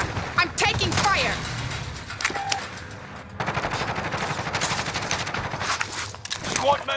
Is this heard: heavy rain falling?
no